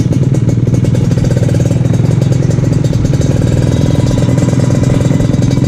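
A 2016 Kawasaki Ninja RR motorcycle engine idles close by, a loud steady rapid put-put pulse with a rattly mechanical edge that holds a constant rhythm throughout.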